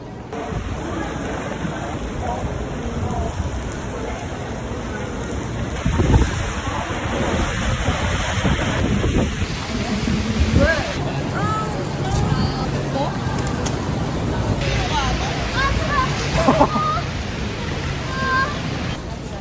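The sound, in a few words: heavy rain and wind from Typhoon Tapah in Jeju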